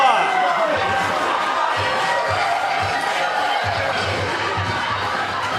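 Guests at a Ukrainian wedding cheer and holler after a dance competition, a loud sustained roar of many voices over a pulsing bass beat, with a voice speaking through it.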